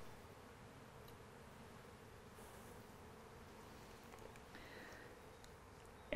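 A faint, low hum of honey bees swarms steadily around an open hive packed with eight full frames, a soft continuous drone with no voices, ending in a sharp knock.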